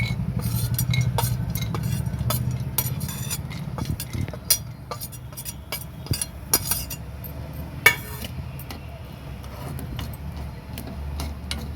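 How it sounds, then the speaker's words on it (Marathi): Cashews and almonds frying in a spoonful of ghee for sabudana kheer, with repeated close metallic clinks and scrapes of a spoon against the pan over a low, steady sizzle, irregular and busy throughout, with no voices. "एक दोन मिनटं तळून घेऊ आपले काजू बदाम"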